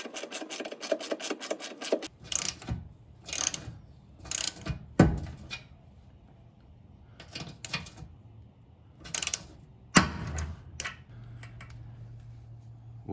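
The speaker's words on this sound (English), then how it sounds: "that loud snap, I'm pretty sure, is the weld on the nut inside the frame breaking loose" Mechanical clicks and sharp bangs ring out while bolts go into a Jeep TJ frame cross member, with one loud metallic snap from a welded nut breaking loose inside the frame among bursts of ratcheting.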